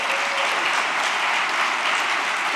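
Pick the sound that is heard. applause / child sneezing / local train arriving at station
applause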